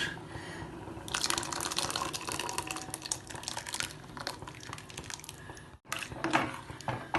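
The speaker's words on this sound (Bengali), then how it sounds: "এবারে তো মিশিয়ে দেব এই এক জাগ তরমুজের রস" A jug of watermelon juice is poured into a pot for milk-free watermelon porridge, giving a continuous close splashing, gurgling flow that runs for several seconds, breaks off briefly near the end, then resumes.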